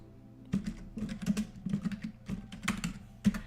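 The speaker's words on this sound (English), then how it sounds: "when you type in George Laurer," Rapid, uneven keystrokes on a computer keyboard, close and clear, with short bursts and pauses and no voices.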